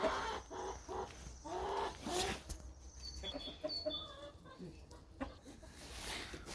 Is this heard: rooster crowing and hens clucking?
yes